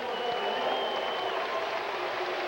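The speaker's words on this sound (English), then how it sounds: "Fans are booing" Fans at a 1994 men's college volleyball match between Hawaii and UCLA fill an indoor arena with a sustained, droning wash of crowd noise, steady and fairly loud throughout with drawn-out vocal tones.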